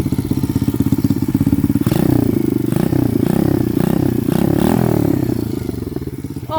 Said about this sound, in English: I'm gonna start it and I'll show you the bike.